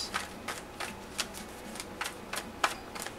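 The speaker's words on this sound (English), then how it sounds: "I'm shuffling and putting out your cards because they're all over the place." Tarot cards being shuffled up close, with a series of crisp riffling flicks at an irregular rhythm against a quiet background.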